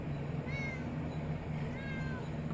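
A kitten meows in two short, faint, high calls against a steady low background hum outdoors on a humid day, with no talking over it.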